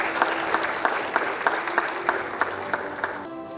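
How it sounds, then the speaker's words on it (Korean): Audience applause at a Korean ESG management award ceremony, honoring a social-category prize winner: steady, dense clapping from a seated crowd with a few sharper individual claps standing out, tapering off at the end. "격려의 박수 부탁드리겠습니다."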